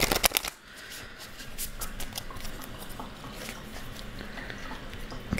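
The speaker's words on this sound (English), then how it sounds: "I'll shuffle down here instead of on the desk so it's a bit quieter." Tarot cards riffle-shuffled close by in quick, papery bursts, with soft clattering and rustling continuing steadily throughout.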